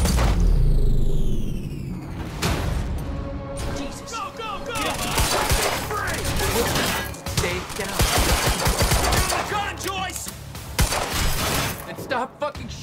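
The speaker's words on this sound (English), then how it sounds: "Stop fucking shooting at us!" Enemies in Quantum Break fire bursts of automatic gunfire at close range, loud and dense, mixed with crashing impacts and rumble. Shouting voices break in between the volleys.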